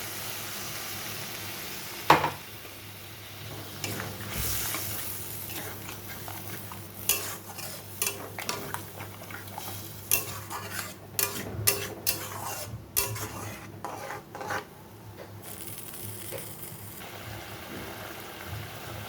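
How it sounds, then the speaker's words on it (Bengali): Spice paste stirred with a little water in a pan for bitter gourd curry, with quiet intermittent spoon scrapes and clinks over a low background hum, growing busier toward the middle. "এখানে একটু জল দিয়ে এটাকে গুলিয়ে দিয়ে দেবো"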